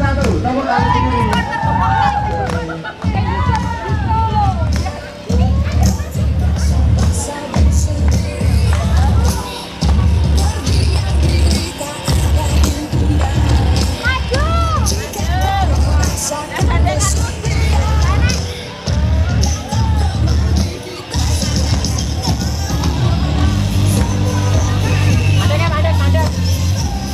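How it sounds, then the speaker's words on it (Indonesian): A loud, bustling crowd at an Indonesian 70th Independence Day carnival cheers and shouts for a participant, with children's voices and an announcer talking over the hubbub. "Tepuk tangan untuk peserta nomor 1."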